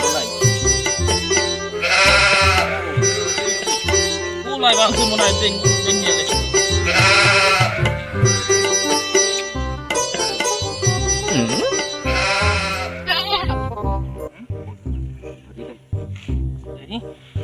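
Goats bleat in several loud, drawn-out calls at intervals, close by, while people talk and haggle around them.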